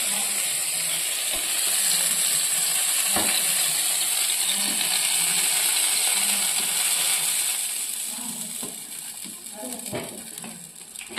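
Fried vegetables are tipped into a simmering pot of bhog khichuri and stirred in. A constant hiss runs under clattering spoon knocks and scrapes, and the bubbling grows busier near the end.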